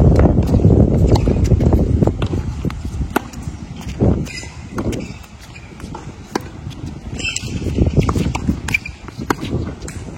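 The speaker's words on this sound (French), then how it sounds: "Le vent souffle très fort." Strong wind gusts roar across an outdoor tennis court in Miami, buffeting the microphone with loud continuous rumbling noise that swells and eases, with a few faint thuds underneath.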